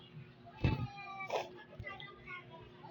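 A cat meows twice, short and fairly close, with a voice and household noise around it.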